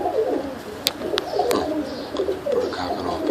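Young tippler pigeons cooing inside a loft, soft repeated low coos close by with a few sharper wing or perch clicks, no talking.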